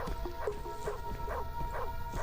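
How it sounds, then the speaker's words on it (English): A dog barks repeatedly in a steady rhythm, each yelp fairly close and clear, with a faint hum underneath and no talking. "It just keeps barking."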